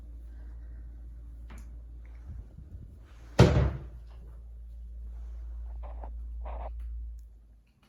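Pantry cabinet drawers in a kitchen open and close, with a sharp slam midway and softer sliding rumbles and knocks before and after, close by in a quiet room with no talking.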